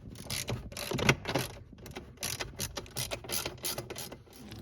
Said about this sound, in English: So just remove these bolts